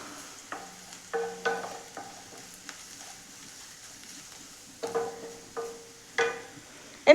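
Spices and turmeric are stirred in a pan for a chickpea and coconut stir-fry, soft gentle sizzling under intermittent spoon scrapes and clinks on the pan, fairly quiet with no talking.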